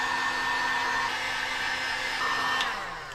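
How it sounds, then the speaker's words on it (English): A heat gun blows hot air at steady full power during a boat's bow cabin refit, a close, continuous whooshing roar that holds for about three seconds before starting to wind down. "Heat gun."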